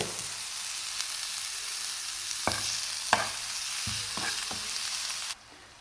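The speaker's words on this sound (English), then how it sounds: "Stir it well." Food is stirred in a frying pan, a steady close sizzle broken by several sharp scraping clicks of the utensil against the pan before the sound cuts off abruptly.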